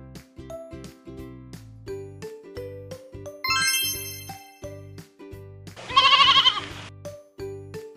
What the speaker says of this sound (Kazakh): Лақ.